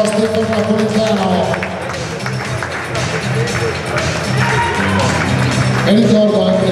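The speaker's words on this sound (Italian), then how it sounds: "Un applauso a Stefano Napolitano." Crowd clapping for boxer Stefano Napolitano after a points decision at a boxing event, sustained applause mixed with babble while an announcer speaks over it.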